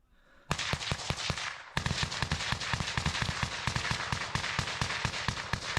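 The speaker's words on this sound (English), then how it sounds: "We hear some fire continuing still in front of him." Rapid gunfire in war footage from Ukraine, a dense stream of sharp cracks and bursts, loud and close, with a brief pause before the shots resume and keep going steadily.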